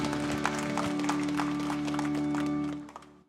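Church congregation at a Sunday worship service breaks into brisk, dense applause over a sustained low organ or keyboard tone, the clapping stopping abruptly near the end.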